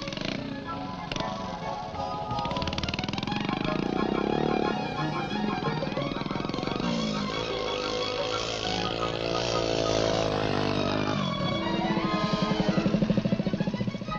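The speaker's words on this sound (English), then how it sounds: "Here he is after riding for only 4 months on a miniature 50cc scrambling bike built by his father" A miniature 50cc scrambling motorcycle, a three-gear machine built by a mechanic father, buzzes steadily with a thin revving drone that rises and falls as it rides, moderately close, under background music.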